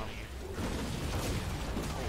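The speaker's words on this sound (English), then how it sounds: "Explosions everywhere." Explosions in the zombie shooting game Zombie Killing Simulator, a dense continuous roar of booming blasts and rumbling bursts that overlap with no pauses, loud and close.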